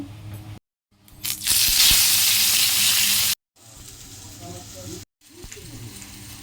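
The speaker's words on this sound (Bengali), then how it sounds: "তেল গরম হয়ে গেছে, সমস্ত মাছগুলোকে আগে ফ্রাই করে নেব" Fish pieces fry in hot oil with a loud, hissing sizzle that swells for about two seconds. Quieter kitchen sounds come before and after, and the clip breaks off in short gaps.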